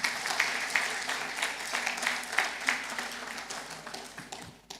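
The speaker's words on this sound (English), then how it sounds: "I think he deserves a bigger round of applause." Audience applause for a presenter at the Smart Uganda Smart Access launch event: a steady, fairly close wash of many clapping hands that swells and eases slightly, then fades out near the end.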